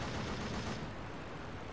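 Aircraft machine gun fire in a Rise of Flight dogfight, with an Albatros D.III biplane in the fight, rattles as one continuous dense burst under steady engine roar, loud and close.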